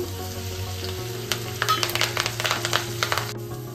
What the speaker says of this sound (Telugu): పచ్చిమిర్చి ఇంకా కరివేపాకు వేస్తున్నాను